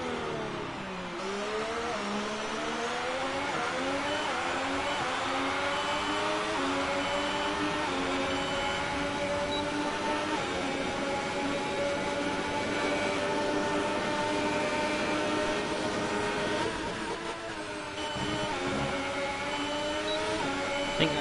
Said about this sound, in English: now let's rev it up to max power